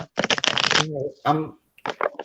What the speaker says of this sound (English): I'm shuffling your cards now.